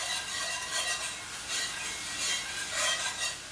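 A spoon scrapes and stirs thickening gravy made from meat drippings in a pan for country fried steak, a steady soft rasping swish that rises in a few louder strokes, with no talking.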